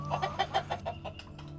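Chickens cluck in a quick series of short, rhythmic calls close by, over a low steady hum, in a frontline village farmyard in Velyka Mykhailivka, Ukraine.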